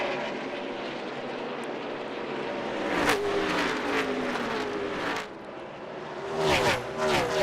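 Race cars circling the short Bristol oval, with a loud engine drone and several cars sweeping past up close, the roar swelling and fading with each pass.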